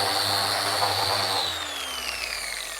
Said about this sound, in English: now I'm just sanding each face nice and smooth to even out any joints